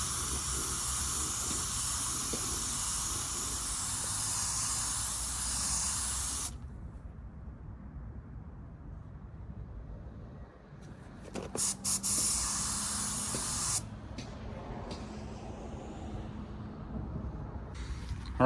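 A paint spray gun hisses in long continuous blasts while applying clear coat to a 2018 Ford EcoSport Titanium, cutting off mid-clip and resuming later.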